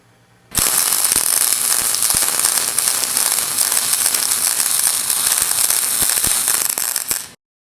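A Lincoln 180 or Miller 212 MIG welder runs a bead on 1/4-inch steel plate, a loud steady crackling buzz that starts abruptly, holds for about seven seconds with sharp pops, then cuts off.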